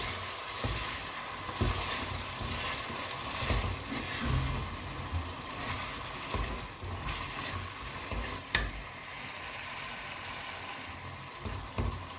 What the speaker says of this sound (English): Then I'm gonna stir it.